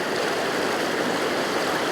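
Small Highland burn rushing powerfully over rocks, a dense, steady, close roar of flowing water with no pauses or voices.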